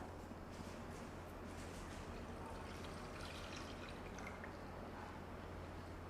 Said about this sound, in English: into this, I'm going to add my milk